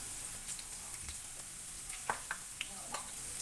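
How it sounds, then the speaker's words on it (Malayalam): Turmeric and Kashmiri chili powder fry in oil for a lemon pickle, giving a faint, steady sizzle with a few soft stirring clicks, close by. "പൊടിയുടെ ഒരു പച്ചമണം മാറുന്നവരെ ഒന്ന് ഫ്രൈ ചെയ്ത് കൊടുക്കാം."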